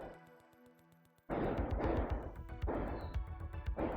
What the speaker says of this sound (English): No, those are fireworks, not gunshots.